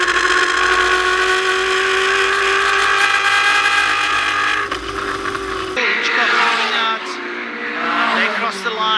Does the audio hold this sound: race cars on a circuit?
yes